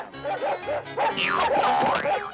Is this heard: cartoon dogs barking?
yes